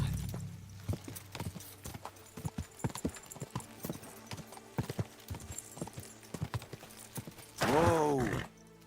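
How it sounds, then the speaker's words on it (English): Horse hooves clip-clop steadily on the ground in the video game Kingdom Come Deliverance II, and a horse whinnies loudly near the end. "Horse out here."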